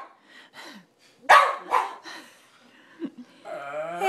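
A dog on its 13th birthday lets out a few sharp, close barks mixed with growly grumbles, then a drawn-out whining howl at the end.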